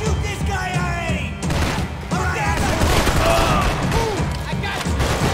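Bursts of gunfire rattle through a firefight in Max Payne 3, loud and dense fusillades with thumps and crashes, while voices shout over the shooting.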